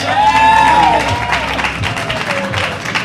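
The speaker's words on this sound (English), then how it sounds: "So give them both a big round of applause." A live event audience applauds two guests on stage, clapping and some cheering over a loud tonal squeal of feedback or music at the start, then fading into scattered claps.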